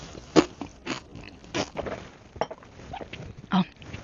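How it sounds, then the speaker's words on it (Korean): Crunchy peanut butter with crisp soy-based crunch pieces being chewed up close, a series of sharp crackling bites and wet crunches spaced irregularly, loud and alone with no talk. "씹는 소리를 한번 들어보세요"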